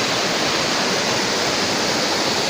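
Manthokha waterfall in the Kharmang valley, a loud, steady wash of rushing water filling the whole moment with no breaks.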